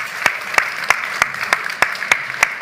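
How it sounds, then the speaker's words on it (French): Slow, rhythmic hand claps ring out one after another, about three per second, crisp and fairly close, as an audience applauds the chef at a cooking masterclass during a food festival. "On peut l'applaudir."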